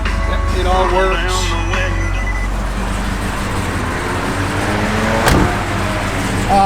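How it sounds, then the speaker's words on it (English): A 1971 Chevrolet Chevelle SS engine rumbles close by with a deep, steady idle and a brief rev, while people talk over it. "Little rev. Car sounds good."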